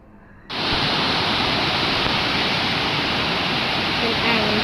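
A waterfall pours from a dam at a reservoir in Laos, its loud, steady roar cutting in abruptly and then rushing on without a break.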